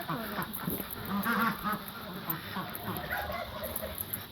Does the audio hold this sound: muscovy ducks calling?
yes